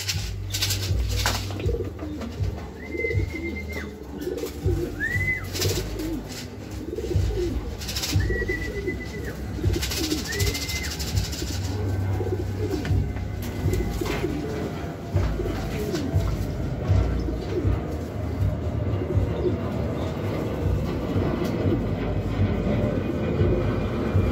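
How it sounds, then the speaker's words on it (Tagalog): Pigeons coo at a loft with a low rumble and the clatter of birds around it; soft repeated cooing runs throughout, with a few brief whistling calls in the middle. "Ito na mga kalapatids"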